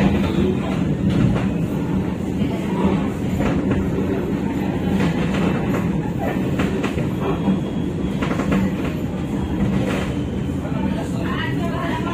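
A train departs Surabaya station in Indonesia with a loud, continuous rumble and rolling wheel clatter heard from on board, while a person talks over the noise.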